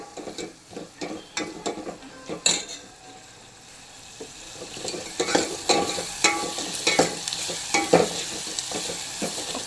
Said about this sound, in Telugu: ఒక 5 సెకండ్స్ ఫ్రై అవుతే బాగుంటుంది ఫ్రెండ్స్